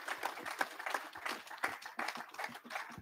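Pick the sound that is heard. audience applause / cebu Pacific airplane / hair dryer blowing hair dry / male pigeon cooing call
audience applause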